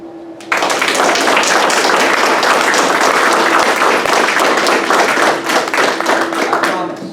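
Sustained enthusiastic applause from a crowd at a graduation ceremony, dense clapping beginning abruptly and holding loud and steady for several seconds.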